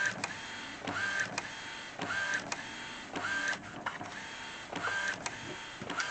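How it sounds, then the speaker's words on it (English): An Epson XP-15000 inkjet printer prints a DTF direct-to-film transfer on rear-fed film, with a steady mechanical whir broken by repeated print-head passes and short rising motor whines roughly every second, close and moderately quiet. "This picture that I'm printing out, this is the first time I'm printing it out"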